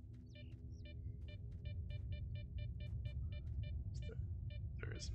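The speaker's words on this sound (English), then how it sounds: "Oh, beautiful bird noises" Birds sing in the outdoor zone of the Stalker video game, repeated bright chirping notes in an even, rapid pattern with a few sliding whistles, set over a steady low rumble of wind.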